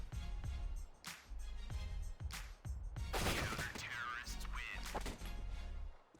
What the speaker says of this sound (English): shoot and hope for the best